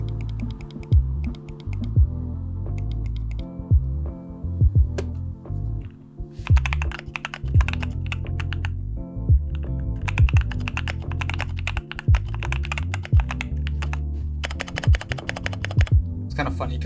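Rapid keyboard clicking in irregular bursts, close and fairly loud, over a steady low hum with some background voices.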